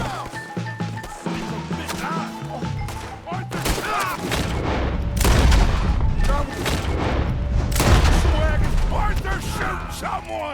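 A Red Dead Redemption 2 shootout erupts in rapid bursts of loud gunfire and booming shots, cracking close by in clusters over a tense backdrop, with shouting voices mixed in.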